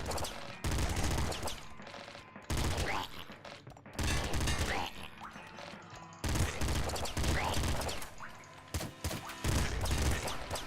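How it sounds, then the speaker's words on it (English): Rapid bursts of shotgun fire from crocodile enemies in the video game Nuclear Throne, loud and repeated in dense volleys across the whole stretch with brief gaps between barrages, mixed with crashing game effects. "they fire these shotguns quickly"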